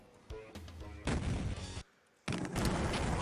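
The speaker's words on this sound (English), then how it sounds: "You just throw a pipe bomb through the wall right there, blow it up" Pipe bomb blasts in the shooter game Duke Nukem 3D, two loud, harsh, close explosions separated by a brief silent gap, with a softer game sound before them.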